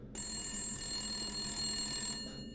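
A telephone rings in the video game Resident Evil Village, a sustained electronic bell tone that starts abruptly and holds steadily for about two seconds before cutting off.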